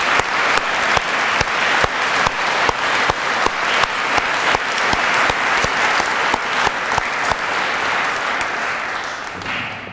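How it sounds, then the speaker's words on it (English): A large audience at an alumni award convocation claps steadily for award winners, a dense, sustained wash of applause with sharp individual claps standing out, tapering slightly toward the end. "Let's please give them a round of applause."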